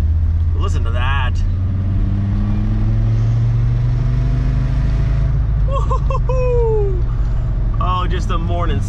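Volkswagen VR5 engine in a Savoy car while driving, a steady low drone running under the whole stretch, with someone talking over it at the start and end.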